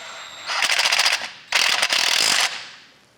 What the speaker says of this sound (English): I'm going to go ahead and snug this bolt down here.